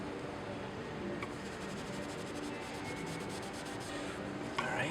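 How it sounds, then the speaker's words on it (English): Oil being rubbed by hand into tooling marks on a damaged wood floor during repair, a steady soft scuffing friction that continues evenly throughout with a slight scrape near the end, no talking. "I'm just going to rub that right into those tooling marks"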